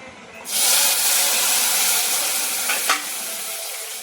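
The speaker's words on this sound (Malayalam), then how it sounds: "കടുക് താളിച്ചത് നമുക്ക് കറിക്കകത്തോട്ട് ഒഴിക്കണം." A hot mustard seed tempering with red chillies and curry leaves is poured into a snake gourd and tomato curry, setting off a sudden loud sizzle that hisses steadily and slowly fades, with no voices.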